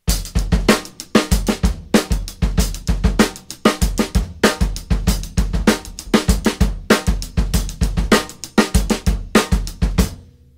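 A full drum kit plays a steady rock groove, kick and snare under evenly spaced hi-hat hits, loud and close with no talking.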